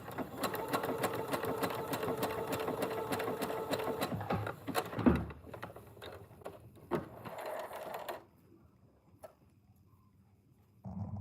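A sewing machine stitches fabric for a hair scrunchie in a fast, close mechanical rattle for about four seconds, then slows into a few uneven bursts and clicks before stopping, with the room going quiet near the end.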